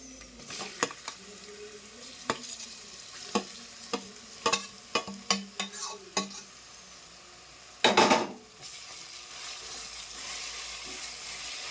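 Grated raw mango tossed into hot oil with golden-fried garlic in a pan, giving a run of sharp scraping stirs and clinks over a steady soft sizzle, with a louder burst near the end.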